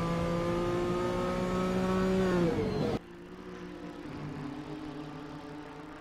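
GT3 race cars at Brands Hatch in a racing sim, engines roaring at high revs along the back straight, then an abrupt cut to a quieter, lower-pitched engine drone as the view switches cars.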